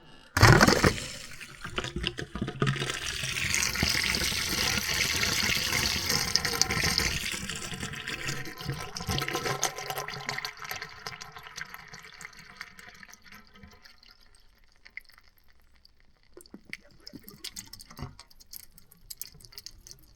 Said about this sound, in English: if I turn this valve here, this pressure relief valve, you'll see the pressure drop and water drain